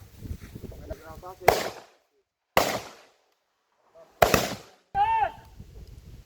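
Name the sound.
gunfire during SWAT exercise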